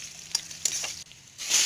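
Onions dropped into a hot pan where fish is frying, giving a close, bright sizzle that dips briefly, then surges louder at the end, with a few stirring scrapes.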